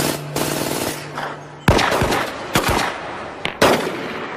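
Cartoon drive-by shooting: several sharp gunshot bursts crack out at irregular intervals over a steady background hum, loud and close.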